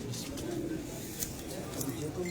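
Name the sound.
pigeon cooing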